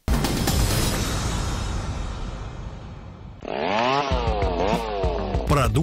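A Stihl gasoline chainsaw roars loud and steady near the mic, then its pitch swoops up and down in repeated revving bursts.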